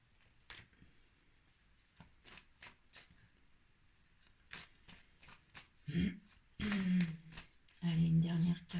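A deck of mirror oracle cards is shuffled in quick, crisp riffling bursts up close, and a voice talks over the later part.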